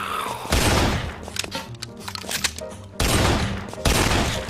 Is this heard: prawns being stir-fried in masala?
no